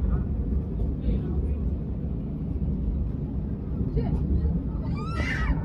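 Steady low engine drone fills a Ryanair airliner cabin on approach for landing into Zagreb, constant and close, with faint voices briefly rising near the end.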